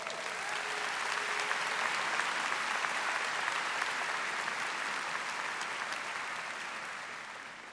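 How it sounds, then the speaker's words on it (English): Commencement crowd at George Mason University applauding, a broad, sustained roar of many hands clapping in a large venue, evenly loud for several seconds before tapering slightly at the close. "To each of you, give them a round of applause."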